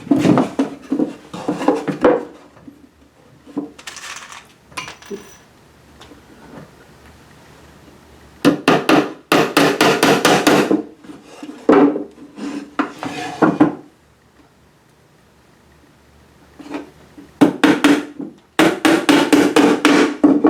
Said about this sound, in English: So I'm only going to put a nail here and here.